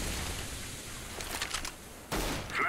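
Rapid bursts of gunfire from a shooting video game, with a sharp crackling volley in the middle and another louder burst near the end over steady background noise.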